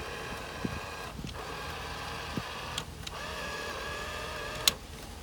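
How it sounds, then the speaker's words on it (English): Power folding side mirrors on a 2004 Chevrolet Tahoe run with a faint, steady electric motor whine, broken by a few small clicks and one sharper knock near the end. "we'll also go ahead and move these mirrors"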